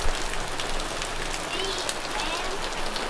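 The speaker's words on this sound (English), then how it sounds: "We get here and it's just pouring with the rain." Heavy rain pours down in Darwin during a tropical storm, a dense, steady hiss of drops drumming on surfaces close by, unbroken and loud for the whole stretch.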